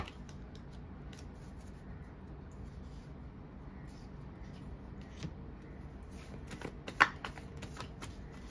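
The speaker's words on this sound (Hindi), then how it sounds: "मैं थोड़े कार्ड निकाल रही हूं।" Tarot cards are shuffled quietly nearby, with soft papery riffles and light taps that grow busier and slightly louder toward the end.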